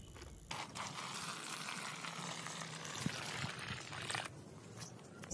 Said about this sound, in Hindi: इसके अंदर हमें पानी डाल देना है।